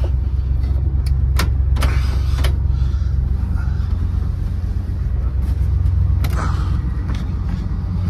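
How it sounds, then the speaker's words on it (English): A 1959 Cadillac Miller Meteor Ecto-1 car door unlatches and swings open with a few sharp clicks and clunks over a constant low engine or motor hum. "Let's pop this door open."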